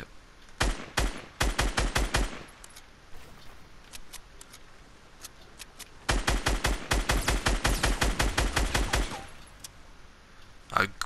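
Two bursts of rapid dual-wielded pistol fire in the video game Fortnite, a quick string of shots, a pause, then a longer volley, crisp and close, with a single shot at the end.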